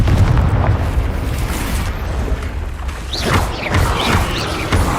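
Fiery Confringo spell explosions in Hogwarts Legacy boom with heavy low rumble, a dense burst at the start and a second surge of crackling blasts later on, loud and near.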